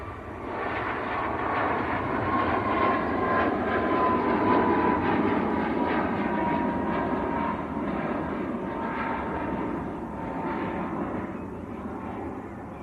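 Ryanair jet airliner departing Manchester Airport, a steady full-bodied engine roar with faint tonal whine, swelling midway then easing slightly, moderately distant and free of talk.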